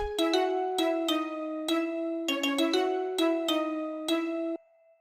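Vibraphone, celesta, xylophone, violin, viola and a string ensemble play a melody together, a steady run of struck, bell-like notes layered over sustained strings, close and clear before stopping abruptly.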